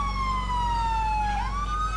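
A police siren in GTA 4 with the LCPDFR mod wails in a steady, loud tone that dips and then rises again near the end, continuous over a constant low rumble.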